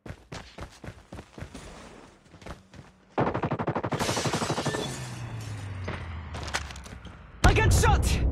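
Rapid automatic gunfire from a Call of Duty Mobile Search and Destroy match, with scattered single shots, then sustained bursts, a low rumble, and a loud final volley, mixed with a game voice calling out.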